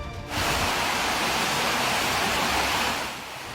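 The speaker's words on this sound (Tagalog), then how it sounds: "kuha ni News Cooper Daisy Salyot Manyalag, kita ang pagragasa ng tubig baha sa Nivel Hills sa Cebu City" Floodwater rushes through Nivel Hills in Cebu City after heavy rain, a loud, steady roaring torrent of broadband noise that begins abruptly and holds, with no talk over it.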